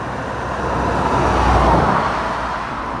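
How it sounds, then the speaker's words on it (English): A motorcycle fitted with Max Torque cans exhaust gives a throaty, low burble that swells to a moderate peak and eases off again, heard alone without talk. "it's definitely more throaty"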